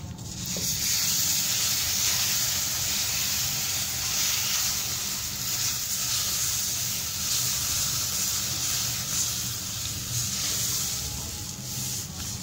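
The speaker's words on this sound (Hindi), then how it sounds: "अब हम इसके अंदर दूध ऐड कर देंगे आहिस्ता आहिस्ता करके।" Steady loud sizzling and hissing as milk is slowly poured into hot moong dal in a pan, continuing evenly with no talk.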